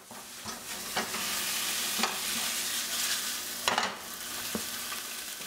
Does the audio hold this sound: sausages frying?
yes